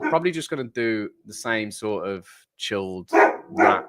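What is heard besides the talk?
dog barking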